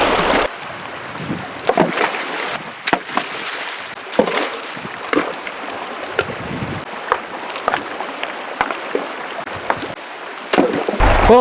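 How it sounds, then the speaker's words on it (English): Rocks are thrown back into water during gold prospecting reclamation, giving irregular splashes and plops, some sharp and close, against a background of flowing water. "let's start throwing rocks back in the water"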